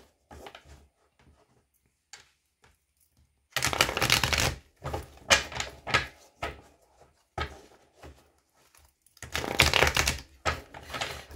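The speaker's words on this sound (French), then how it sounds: "je vais mélanger les deux jeux" Two tarot decks being shuffled together, bursts of crisp riffling and card slapping at close range, separated by short quiet pauses.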